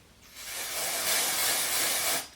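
A steady, loud dry shampoo aerosol hiss sprays for about two seconds, starting and stopping abruptly, close up with no voices.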